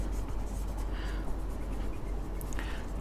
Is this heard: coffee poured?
no